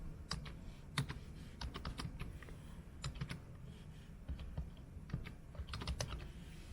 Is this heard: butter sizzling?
no